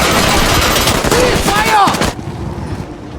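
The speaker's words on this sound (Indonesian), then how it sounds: "Ia lalu menyuruh prajuritnya untuk menembaknya," Soldiers open fire on a man in a film scene, a loud burst of rapid gunshots that cuts off abruptly, leaving quieter background sound.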